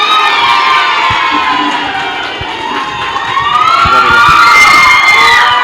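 A crowd cheers and shouts loudly and continuously at a college annual day celebration, high excited voices rising near the end, with no clear speech over it.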